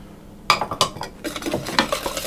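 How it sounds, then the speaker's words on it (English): An egg goes into muffin batter in a mixing bowl for apple butter and sultana muffins: a few sharp, close utensil-on-bowl knocks, then a busy run of clinking and scraping as it is stirred in, with no talking. "And then add the egg in"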